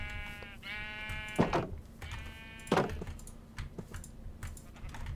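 Sheep bleating in the video game Minecraft, two bleats standing out over a steady low hum, followed by soft clicking and tapping.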